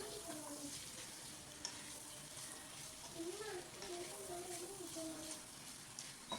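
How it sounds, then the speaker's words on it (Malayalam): Chicken fried rice with egg and sauce being mixed in a pan, a faint steady sizzle with soft scraping stirs and occasional light utensil clicks, with faint talk in the background. "ഇനി ഇതെല്ലാം പാടെ കൂടിയിട്ട് നന്നായിട്ടൊന്ന് മിക്സാക്കി എടുക്കുക."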